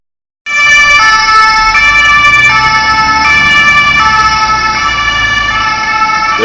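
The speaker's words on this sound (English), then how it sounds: "There goes the rescue car" An emergency rescue vehicle's siren sounds loudly on a street in Flensburg, cutting in suddenly and holding a steady wailing tone close by over low road rumble, with no voices.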